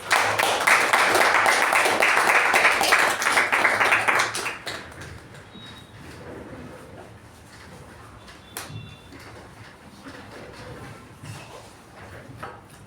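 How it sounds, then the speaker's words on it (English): A Toastmasters meeting audience claps to welcome the first speaker, a loud burst of clapping for about four seconds that then cuts off, leaving quiet room noise with a few faint knocks. "I would like to welcome him with a huge round of applause."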